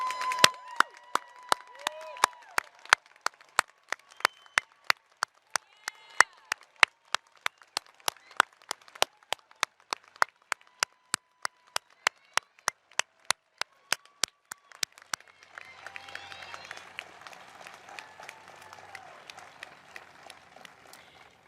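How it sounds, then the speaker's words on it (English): Graduates at a 2021 School of Humanities & Social Sciences commencement ceremony receive a round of audience applause, a dense clapping wash filling the final seconds after a stretch of voice and sharp, steady ticks. "Please join me in another round of applause for our graduates."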